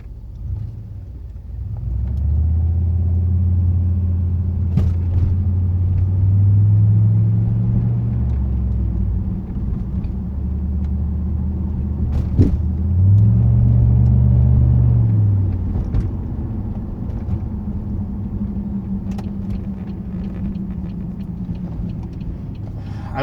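Deep exhaust drone from a 2008 Pontiac Grand Prix GXP with a Thrush welded muffler, low rumbling tone rising and falling as the car accelerates and cruises, loud and steady close by.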